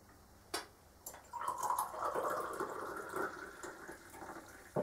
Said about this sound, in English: you can pour your tea.